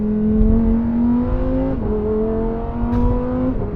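Lamborghini Huracan Sterrato engine pulling under moderate acceleration, a steady droning note that rises, dips at two quick upshifts and climbs again, heard close from inside the car with no talking.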